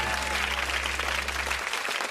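Studio audience at a 1992 game show applauding steadily, a dense wash of clapping that holds throughout without letting up.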